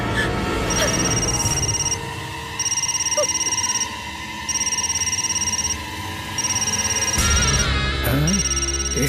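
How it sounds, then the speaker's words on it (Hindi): A telephone rings in repeated electronic bursts, about four evenly spaced rings with short pauses between, loud and close over a low background hum, with some voices and movement toward the end. "इसके बेटे का फोन है।"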